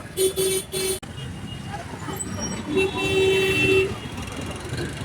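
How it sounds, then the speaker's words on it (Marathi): Busy road traffic with a bus and cars, where vehicle horns sound twice: a quick burst of toots at the start and a longer blast a few seconds later, all over a steady engine and roadway rumble. "ट्रॅफिक बघा तुम्ही मागे बघू शकता आता केवढं ट्रॅफिक झालं आहे"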